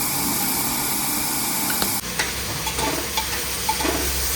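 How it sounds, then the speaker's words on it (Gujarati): Vegetables with turmeric, Kashmiri red chili powder and salt sauté uncovered in a pan over a medium gas flame, a steady close sizzle broken by a sharp shift and then scattered scraping stir strokes. "હવે ગેસની ફ્લેમ થોડી મીડિયમ કરીને શાકને આ રીતે જ ત્રણથી ચાર મિનિટ ખુલ્લું જ સાંતળવાનું છે"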